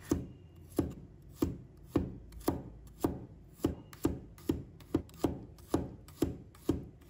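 A knife slices ginger on a cutting board, about twenty crisp, evenly spaced chops in a steady rhythm, close and clear with no talking.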